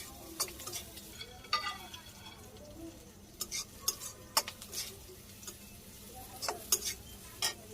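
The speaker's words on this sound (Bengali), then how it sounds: "নাড়াচাড়া করে নিই পেঁয়াজ।" Onions frying in a pan are stirred with a spatula, giving repeated sharp scrapes and clinks in irregular bursts over a low, steady sizzle, with no one speaking.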